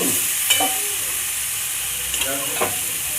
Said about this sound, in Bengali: আলুগুলোকে একটু সিদ্ধ করে নিয়েছি দিয়ে ভেজে নিয়েছি তার জন্যে কিছু মশলা দিই